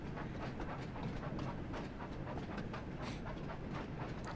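Percy the train from a Thomas & Friends video game rumbles along the rails under braking, a steady rolling clatter with repeated clicks and a faint high squeal, no voices.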